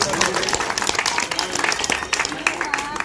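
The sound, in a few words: crowd applauding at a rally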